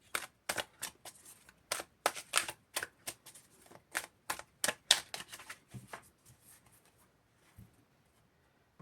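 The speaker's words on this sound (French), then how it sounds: "on va faire une coupe et le tirage en neuf" Oracle cards being cut and dealt out for a reading: a run of crisp, quick card snaps and slaps in an irregular rhythm, close and fairly quiet, tapering off into a few soft rustles.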